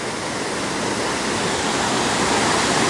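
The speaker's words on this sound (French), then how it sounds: "la chute d'eau peut donner envie d'aller uriner" A waterfall at Tad Lo in Laos roars as a steady, dense rush of falling water, loud and continuous throughout with no talking.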